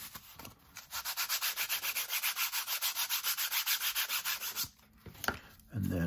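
Corrugated cardboard with its top layer peeled off is rubbed briskly back and forth over a black ink stamp, making a steady rhythmic scratchy rasp of about twenty quick strokes, close up, followed by a few lighter scrapes.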